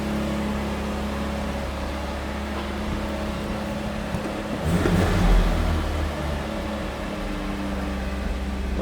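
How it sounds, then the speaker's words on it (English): 1988 Pontiac Fiero engine warming up at high idle, a steady loud low hum and drone with a brief swell midway, heard close and alone without talk. "Might take a little bit to come off a high idle"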